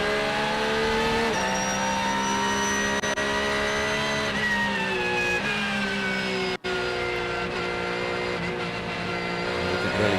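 GT race cars, a BMW and a Porsche, scream past at Sonoma Raceway. Loud, high-pitched engines rise and fall as they pass close by, with shifting gears and a sharp cut in the middle.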